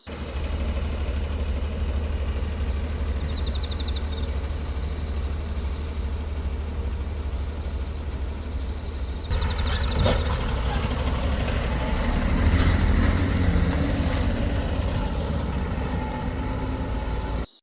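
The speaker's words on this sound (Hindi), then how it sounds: "चाबी घूमती है, इंजन गरजता है और शुरू होता है रोहड़ू से मां चामुंडा जी तक का नॉन स्टॉप सुपरफास्ट सफर।" HRTC bus on the Rohru nonstop route, its engine rumbling at a steady idle, then a louder shift partway through as it revs and settles into a heavier drone, no talking.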